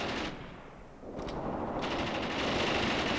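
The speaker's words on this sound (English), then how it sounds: "Machine guns free to open up." Machine gun fire in the wargame Graviteam Tactics: continuous dense rattling bursts that dip briefly and then resume at full strength, loud and sustained, with no talking.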